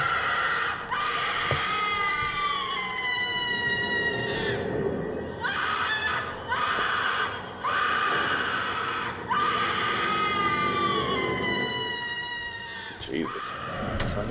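A six-foot Spirit Halloween Twitching Banshee animatronic lets out loud, shrill, wavering screams in repeated bursts, close by, with short gaps between cries and talking at times.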